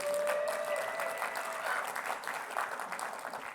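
Audience applause at a tech conference keynote, a sustained, moderately quiet wash of many people clapping that holds steady throughout with a faint tone at the start.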